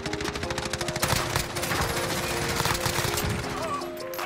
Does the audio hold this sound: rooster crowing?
no